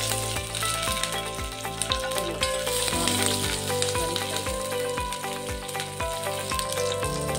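Mustard seeds, curry leaves and green chilies frying in hot oil for a drumstick curry, giving a loud, continuous crackling sizzle with rapid popping bursts from the seeds and no one talking.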